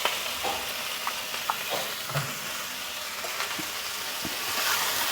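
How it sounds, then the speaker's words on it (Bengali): Cucumber pieces with turmeric and salt frying in a pan, a steady close sizzle with scattered light stirring taps and scrapes. "এটাকে আমি একটু ভেজে নিচ্ছি শসাগুলোকে"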